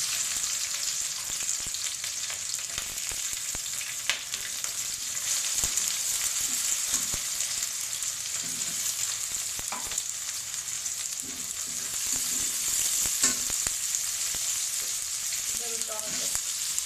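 Onions fry in hot oil with cardamom, cinnamon and cloves for a duck curry, a continuous close sizzle with scattered spatula scrapes and knocks throughout, no talking.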